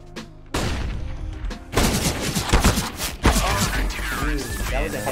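Rapid bursts of gunfire from the video game CS:GO crack and rattle almost continuously, loud and dense, with a player's voice talking over the shooting.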